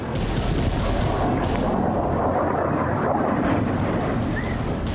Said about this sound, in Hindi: फिर बारूदों की बारिश हुई, फिर धमाके हुए